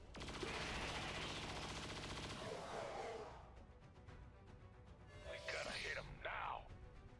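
Saturation Fire volley in XCOM 2 Long War of the Chosen, a dense sustained burst of automatic gunfire for about three seconds, followed by scattered sharp impacts and a pair of bright bursts under low background talk.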